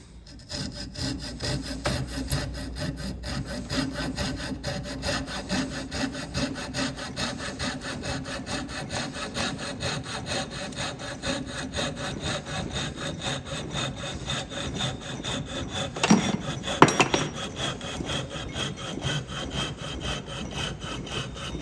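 A hand saw cuts off a piece of wood in a workshop, its steady back-and-forth rasping strokes close and even throughout, with a short clatter near the end.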